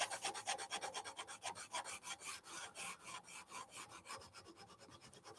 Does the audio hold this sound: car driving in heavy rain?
no